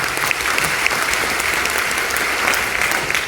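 An audience at a training seminar at Rajagiri in Kochi claps together, giving steady, dense applause that fills the whole stretch at an even loudness without a break.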